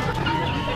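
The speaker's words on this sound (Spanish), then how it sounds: "Ese es un kikiriki, si no me equivoco." A rooster crows at an outdoor flea market in one short, loud, close burst.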